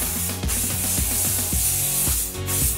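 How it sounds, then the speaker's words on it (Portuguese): Schwarzkopf light hold hairspray sprayed in two short hissing bursts, close to the microphone, with some rubbing and handling sounds between the bursts. "E aí eu vou aplicar um pouquinho do meu spray de fixação leve da Schwarzkopf,"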